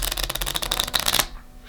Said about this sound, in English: So this is what we call a high and open riffle shuffle.